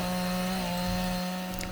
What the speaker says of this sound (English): I used a chainsaw to cut these logs to fit those raised beds